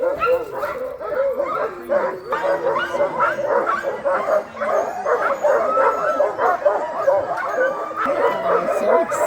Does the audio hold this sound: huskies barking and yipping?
yes